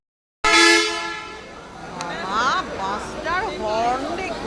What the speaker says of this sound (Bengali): বাসটার হর্ন দেখুন, আওয়াজ